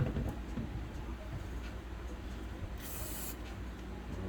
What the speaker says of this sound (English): I'm spraying around the boot as I pull these wires and moving it while I'm spraying